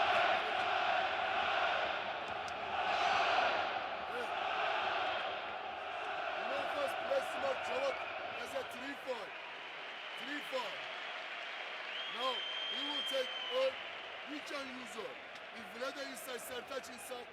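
A large indoor basketball arena crowd roars and cheers continuously, with scattered shoe squeaks and ball bounces on the court beneath the din.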